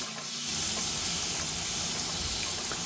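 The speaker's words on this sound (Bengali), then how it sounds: "পটল আলুগুলো ভালো করে কষিয়ে নিতে হবে।" Potol (pointed gourd) and potatoes fry with spices in a pan, a loud, steady sizzle and hiss that starts after a brief quieter moment and continues unbroken.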